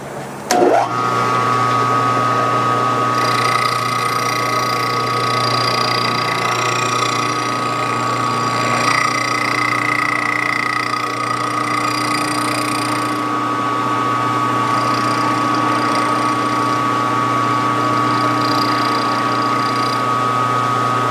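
A five-cylinder radial engine turns over on a test stand, giving a steady, even mechanical drone that holds at a constant pitch with no voices.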